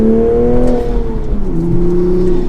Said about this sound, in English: I took my foot off the gas, pressed the clutch and made the gear change, and it was a much smoother shift